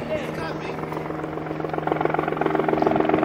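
A helicopter heading to land at the London heliport drones steadily with a thudding rotor pulse that grows louder and more rhythmic toward the end, as if passing close overhead.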